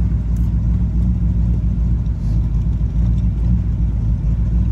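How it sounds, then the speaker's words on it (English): A restored 1974 C3 Corvette idles at about 970 rpm through its side pipes, a steady, loud low rumble with faint popping from the cam overlap, close by and continuous with no talking. "Got an idle at about 970."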